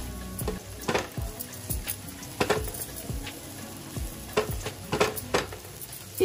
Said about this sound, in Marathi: एक 2 मिनिटासाठी चांगलं परतवून घ्यायचं आहे आपल्याला। सगळे मसाले एकजीव झाले पाहिजे ना।